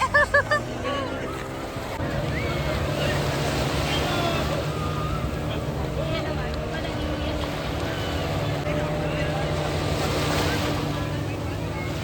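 Disco ride boat out at sea off Dwarka: a loud, steady rush of engine, waves and wind buffeting the microphone, with a few sharp knocks at the start.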